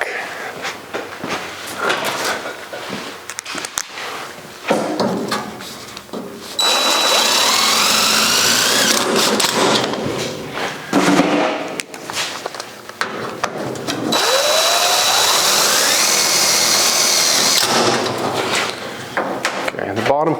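A power drill works on handmade sheet-metal grille parts for a 1956 Chrysler Windsor, giving long loud whirring stretches between clattery handling of tools and metal, with someone talking nearby.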